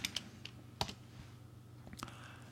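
A few scattered keystrokes click on a computer keyboard while commands are entered for a Cypress PSoC6 BLE Pioneer Kit. The taps are sparse, quiet and uneven, with short gaps between them.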